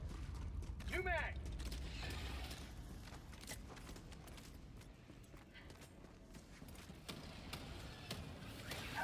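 A video game weapon is reloaded with a fresh magazine: quiet mechanical clicks and clacks scattered over low background noise, with a brief voice-like sweep near the start.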